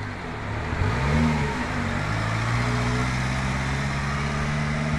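A six-wheel Subaru Sambar kei truck drives along, its small engine humming and rising in pitch as it accelerates, with a steady road-noise bed close by.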